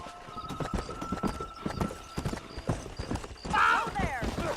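Horse hooves clip-clopping at a steady gallop in the Red Dead Redemption video game, close and rhythmic, with a neigh near the end and a voice talking over it.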